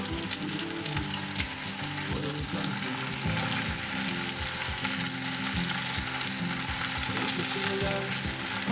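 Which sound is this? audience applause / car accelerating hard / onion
onion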